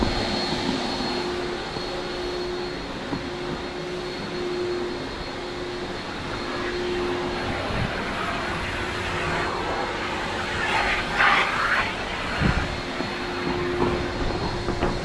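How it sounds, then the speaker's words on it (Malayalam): A vacuum cleaner drones steadily inside a Volkswagen Vento car, with a constant hum and a faint tone, plus a few clunks and rattles toward the end. "ഇവിടെ നിന്ന് വാക്വം ചെയ്തുകൊണ്ടിരിക്കുകയാണ്"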